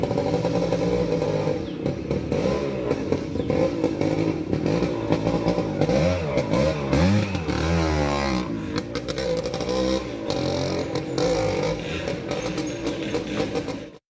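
A vintage motorcycle engine runs close by, revving up and down so its pitch climbs and falls, with a rough clattering mechanical edge throughout and no talking.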